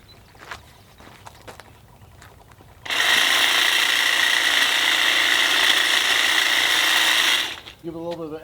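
A Milwaukee M18 Quik-Lok articulating hedge trimmer, battery powered, buzzes loudly and evenly for about five seconds at a constant high pitch before spinning down. Someone talks briefly just after it stops.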